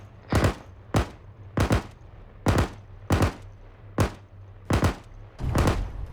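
Sharp bursts of Arma 3 gunfire crack out in an uneven rhythm, about ten shots in quick pairs and singles, loud and close with no talking.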